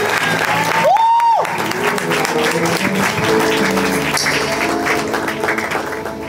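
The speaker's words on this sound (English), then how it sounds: "Clap your hands and celebrate God." A worship congregation claps hands in a dense, continuous roar of applause that fills the room, steady and loud, with a brief tonal sound rising early on.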